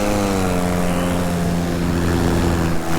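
An electric paramotor's propeller at a full-throttle burst gives a steady, loud whirring drone with strong tonal hum, sustained evenly throughout without speech.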